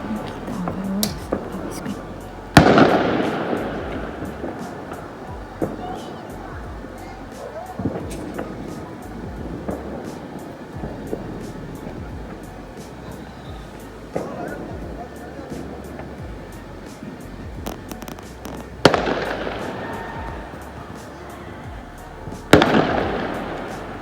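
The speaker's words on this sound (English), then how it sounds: "fireworks." Fireworks burst in sharp, loud explosions at irregular intervals on Orthodox Easter Sunday at the Garden Tomb in Jerusalem, with crackling and a steady crowd murmur and distant voices underneath.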